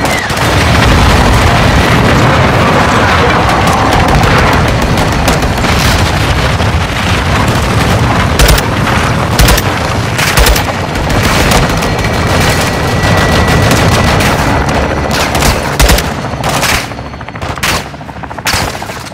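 Dense gunfire and explosions in Call of Duty Modern Warfare II, continuous loud machine-gun bursts with heavy booms layered over a roaring battle din that never lets up.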